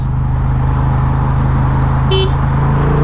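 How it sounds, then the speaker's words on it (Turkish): A single short, car-like horn honk from a Honda Transalp 750 motorcycle rises over a steady, loud engine drone close by, with no other sounds. "Bunun kornası biraz daha araba kornası gibi"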